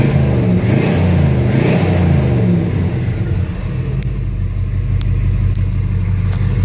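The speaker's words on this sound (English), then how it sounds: "Give it a little gas for you here so you get a chance to hear it." A Ford LTD's engine, showing 63,000 miles on the odometer, revs up loudly nearby with a rising roar, then settles back into a steady idle.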